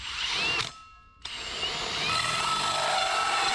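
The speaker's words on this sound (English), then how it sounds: "I am gonna have to make a new hole with this drill bit" A power drill whirs steadily as it bores through wood, with a brief pause partway through before the grinding resumes louder.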